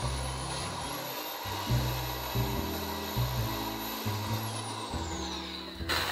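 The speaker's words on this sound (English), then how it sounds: "I reach in here through the hole and I'm gonna line it up and drill directly into the bamboo." Power drill boring into a bamboo hoop that forms the bottom of a homemade tiki light shade frame, a close whirring that rises and drops in several short bursts under steady background noise.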